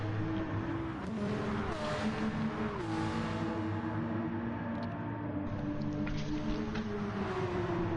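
Sustained race car engine drone from a GR3-class racing video game, steady revving with shifting pitch as gears change, continuous and fairly loud throughout.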